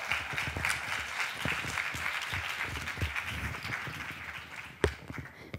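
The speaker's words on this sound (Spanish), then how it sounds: "Demos un fuerte aplauso a Mariluz Peinado." A conference audience breaks into sustained, dense applause at a women's anniversary event, a steady roar of clapping from many hands with one sharp close clap near the end.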